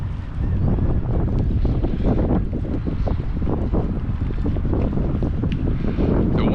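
Strong wind buffets a fishing boat on the Mississippi Gulf Coast, a loud, steady roaring rush of gusts over the microphone with water and hull noise underneath, lasting throughout without talk.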